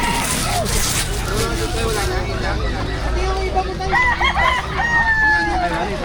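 A rooster crows at a busy pet market at the Bocaue tiangge, its call rising over a steady crowd babble and nearby talk, with more crowing and clucking later in the clip.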